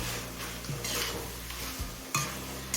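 Chicken stir-fried in masala with green jackfruit for a curry, giving a soft close sizzle broken by scraping stirs and a few clanks of a utensil against the pan, with no talk.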